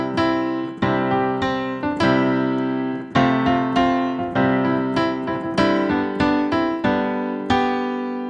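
The first section of a piano piece, with steady chords and melody notes struck in a flowing rhythm, played close and clear without any talking.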